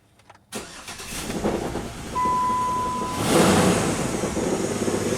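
A 2007 Jeep Wrangler's 3.8 liter V6 with an automatic transmission cranks and fires up nearby, settling into a loud, rough idle with a faint whine, the engine sounding as if something is wrong.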